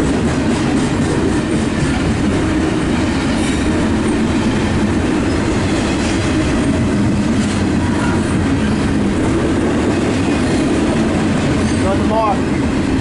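A CSX double stack intermodal freight train passes close by, a loud, steady rumble of wheels clattering on the rails with a faint squeal near the end, while voices talk over a radio.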